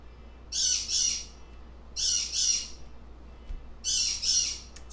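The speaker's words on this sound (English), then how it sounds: "Sorry about the bird squawking." A pet bird squawks indoors in three loud bursts, each a doubled harsh screech, separated by brief pauses over a quiet background with no speech.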